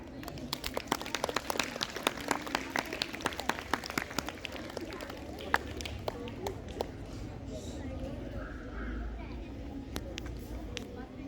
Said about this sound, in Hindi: आइए इस श्रद्धांजलि का स्वागत तालियों की गड़गड़ाहट के साथ करें।